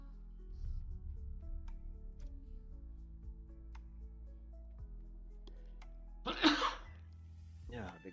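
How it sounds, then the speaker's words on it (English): A loud, sudden sneeze from a person bursts out near the end over a low steady hum, following quiet clicks and murmuring, with a second smaller burst right after. "Yeah, big sneeze."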